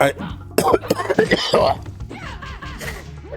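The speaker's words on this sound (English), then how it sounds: "excuse me, I just had to cough there." A sharp, raspy cough bursts out near the microphone, followed by throat clearing and some muffled vocal sounds.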